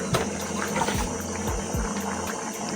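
Uziza leaves being washed in water while making Nigerian native soup; splashing and sloshing with a few soft pours and drips, close and steady, no talk.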